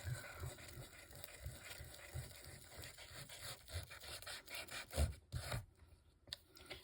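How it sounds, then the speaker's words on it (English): A coin holder is sanded by hand, giving a steady rhythmic scratchy rasp of repeated short strokes, faint and close, with no talk. "so sanding works for me"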